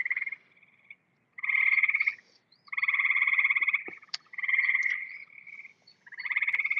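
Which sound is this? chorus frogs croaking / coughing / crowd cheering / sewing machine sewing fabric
chorus frogs croaking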